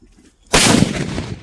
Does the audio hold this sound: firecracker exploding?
yes